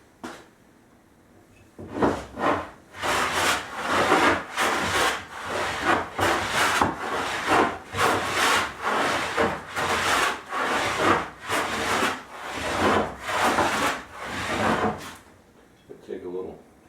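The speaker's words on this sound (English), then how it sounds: "I started to smooth over the board so I could see the grain and any imperfections in the board" A wooden board for a curved blockfront dressing table is smoothed by hand, with a rhythmic series of loud, close, rasping strokes about every half second, and a voice talking over some of them.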